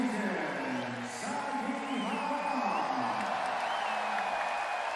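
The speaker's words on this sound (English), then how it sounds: "Home crowd giving a standing ovation for their young player, Shuto Sakihama." A home crowd at a Japanese B.League basketball game between Ryukyu Golden Kings and Gunma Crane Thunders gives a standing ovation, a sustained roar and applause with whistles and whoops throughout, under steady commentary.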